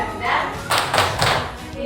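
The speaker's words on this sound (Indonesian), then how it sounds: "Tepuk semangat" A group of women teachers performs the Indonesian spirit clap (tepuk semangat), three quick clap bursts in rhythm, mixed with chanting voices and a steady background murmur of people.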